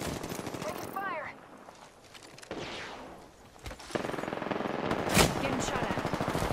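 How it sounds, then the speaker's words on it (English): Video game gunfire during a firefight, with bursts of shots and sharp impacts scattered among other game effects, moderately loud and mixed with voices talking. "Getting shot at."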